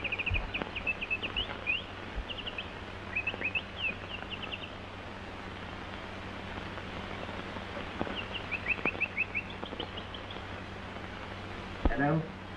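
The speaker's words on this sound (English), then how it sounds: "Darn that bird." A small bird chirps in a 1929 pre-code Hollywood film scene, repeated high bright twitters in short bursts scattered through a steady hiss, fairly faint, with a louder trill near the end.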